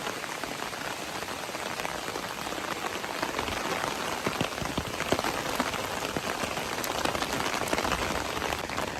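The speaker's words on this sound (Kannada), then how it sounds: "ಜೋರು ಮಳೆ ಬರ್ತಾ ಇದೆ." Heavy early-morning rain pours down in a dense, steady patter of drops hitting surfaces, continuous and fairly loud with no break and no talking.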